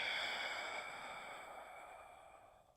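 A soft, sighing exhale during a hip strengthening exercise, quiet and close, tapering off gradually over a few seconds.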